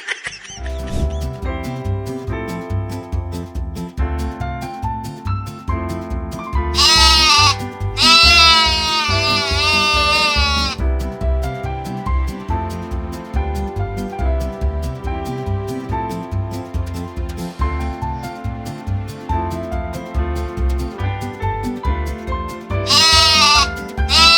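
Repeated sheep bleats ring out over a bright, rhythmic musical backing, with a couple of long wavering cries standing out loudly near the start and end.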